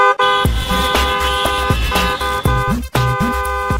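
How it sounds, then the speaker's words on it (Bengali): A bus horn honks loudly and close, sounding a string of insistent blasts separated by short gaps, with no voices alongside. "এই যে আপনি এতক্ষণ হর্ন দিলেন"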